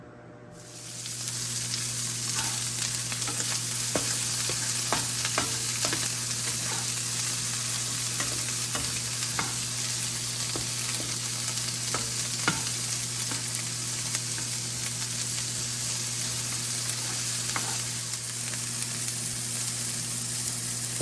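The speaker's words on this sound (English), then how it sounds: "if you can hear me over this sizzling" Steady, loud sizzling of food frying in a hot pan, with occasional crackles and the clink of stirring, no voices.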